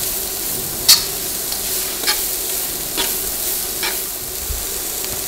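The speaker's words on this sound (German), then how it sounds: "Der wird jetzt einfach in der Pfanne mit angebraten." Vegetables sizzling as they are pan-fried and stirred in a frying pan, a steady close hiss broken by a few sharp scrapes and clinks of the utensil.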